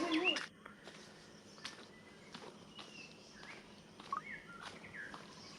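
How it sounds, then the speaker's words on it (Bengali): Scattered bird chirps and calls ring out around a cave entrance in a forest near Jagdalpur during the monsoon, short tweets popping up over a soft outdoor hush, with a few faint footstep-like rustles. "চারিপাশে শুধু পাখির আওয়াজ"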